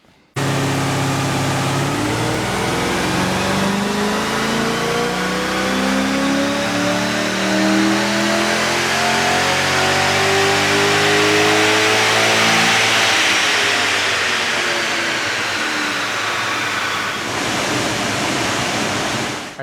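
A Holden Calais V8 on dyno rollers revs in one long, loud sweep through the gears, pitch climbing steadily with heavy roller roar underneath, then easing off near the end.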